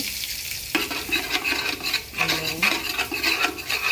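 Cloves, cardamom and a large spoonful of cinnamon fry in a pan with a continuous bright sizzle. Scraping stir strokes and a few clinks from a utensil come at close range, and no one speaks.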